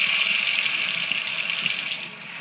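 A kitchen sink tap runs water in a steady, close splashing stream, strong and continuous before easing slightly near the end.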